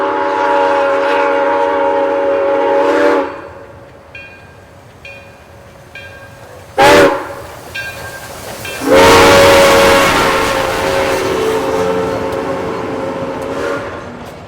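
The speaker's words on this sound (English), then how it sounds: "The train had an easier time leaving town as it was on a descending grade." Grand Canyon Railway train leaving town southbound on a descending grade through snowy, tree-lined country, with a loud close horn sounding in several long blasts and a short burst, the rolling train rumbling between them.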